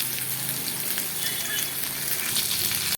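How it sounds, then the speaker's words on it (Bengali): Potatoes frying with salt and turmeric in a pan of hot oil give a steady, close sizzle that holds evenly throughout, cutting off abruptly at the very end. "আলুগুলোকে ভালো করে নুন হলুদ দিয়ে ভেজে নিয়ে"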